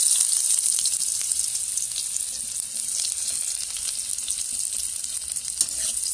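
Chopped onion sizzles loudly in hot oil with whole cumin, a dense, steady crackle of frying with faint stirring scrapes and no voices.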